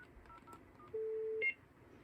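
A call waiting beep on a custom-built Dialogic TDM telephone switch, a single steady tone lasting about half a second followed by a brief higher chirp, clean and clear over faint line hiss.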